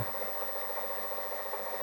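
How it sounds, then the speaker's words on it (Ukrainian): A powerful electric motor runs steadily, drawing power from a resonance system fed by two batteries, giving a continuous even whirring hum with no pauses throughout. "резонансна система і працює двигун"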